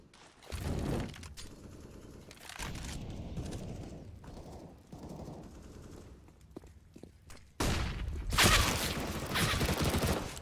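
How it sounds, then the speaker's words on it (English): Competitive Counter-Strike gunfire on the Inferno map, including an MP7 submachine gun: loud rattling bursts and sustained automatic fire, broken by quieter stretches with clicks and movement, then an intense closing volley. "they flashed in, and Gobby on the MP7 takes 4"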